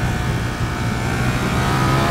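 A Ducati Multistrada V4 RS motorcycle accelerates hard, its engine giving a loud, continuous, rising roar with strong wind noise close up.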